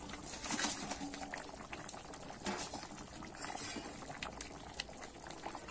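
A pot of fish curry with potato and cauliflower bubbles at a boil, a moderate, continuous burble with scattered pops and faint clinks, without talking.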